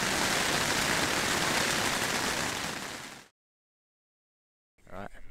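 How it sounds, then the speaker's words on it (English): Heavy rain drums steadily on a tent in the mountains, a dense close hiss that cuts off abruptly, followed by silence and then a brief voice. "It has started to rain, which isn't really ideal."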